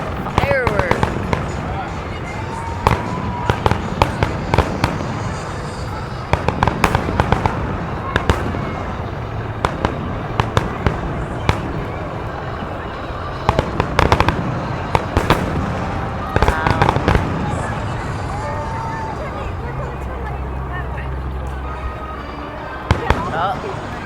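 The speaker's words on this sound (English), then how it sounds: "That's like the pinnacle of fireworks." Washington DC's Fourth of July fireworks crackle and pop nonstop in a dense, loud barrage, with sharp bursts and rumbling booms. A crowd can be heard reacting throughout.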